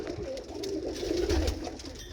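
Pigeons coo softly and continuously close by around a bowl where parent birds and their young gather, a low rolling murmur with a steady background hum.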